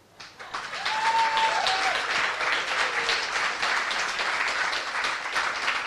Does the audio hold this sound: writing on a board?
no